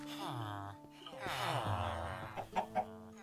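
A Minecraft chicken clucks a few times amid synthetic game-like tones, the clucks short and moderately close, ending in quick staccato bursts.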